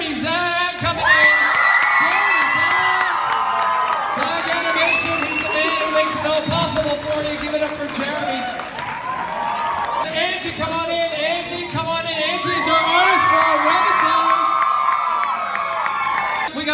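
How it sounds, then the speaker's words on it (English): Convention panel crowd at Stan Lee's LA Comic Con cheering, whooping and shouting as guests walk in, loud and sustained throughout, with an announcer's voice calling over the noise. "give a nice big round of applause for Mr. Jeremy Zach coming in"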